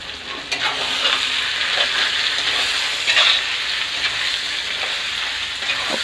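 Chicken biryani masala sizzling and being stirred in a kadai, with a steady frying hiss and a few soft scraping strokes throughout, close and fairly loud, with no talk.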